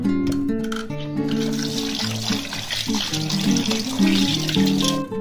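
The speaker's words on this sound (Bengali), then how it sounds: "তো মাছটা এখন আমি ভালো করে ধুয়ে নেবো" Fish being washed under a running tap before salting, steady splashing water with rattles of handling in the sink, loud and close throughout.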